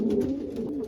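Male racing pigeons coo in a low, rolling burble, one close bird calling steadily for a brief moment with no voices.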